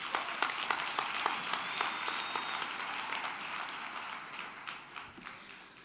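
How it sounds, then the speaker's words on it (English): A crowd at a university graduation ceremony applauds steadily, with dense clapping that holds for several seconds and then gradually fades. "May we give them a huge round of applause."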